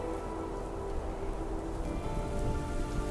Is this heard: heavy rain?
yes